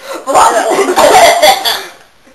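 A person's voice imitates someone hacking and coughing something up: a few harsh, throaty bursts close to the microphone, blending into chuckling, then trailing off.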